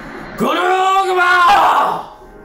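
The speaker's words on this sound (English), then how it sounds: "Terrifying scream." Terrifying Pokémon scream in Pokémon Legends Arceus, a single loud, rising and then falling tonal shriek lasting about a second and a half before fading.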